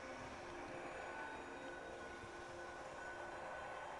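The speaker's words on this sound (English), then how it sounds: "Sounds like a train." Low rumbling train-like roar in the game Elder Scrolls Online, a steady distant rolling drone with faint tonal lines, continuous and unbroken with no speech over it.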